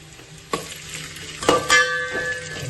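Onion sizzles in hot oil with marinated chicken for biryani, a steady close fry broken by a few sharp stirring scrapes of the spoon against the pan.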